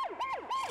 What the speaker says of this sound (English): Pat tends to wail his siren during his sleep